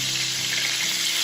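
Red wine sizzles and hisses loudly in a hot pan holding pot roast ingredients, a close, continuous frying crackle with a brief swell of sound at the end.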